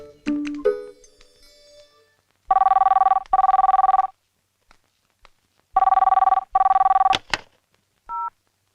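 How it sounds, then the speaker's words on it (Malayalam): A landline telephone rings indoors in clear, loud double bursts, repeating twice with pauses between, after some brief handling noises and a short final chirp. "സുഷമേ, ദേ ഫോൺ"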